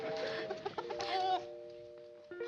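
A bantam rooster in a sitcom clucks in a run of short, close, fairly loud calls, then goes quiet before one last brief cluck at the end.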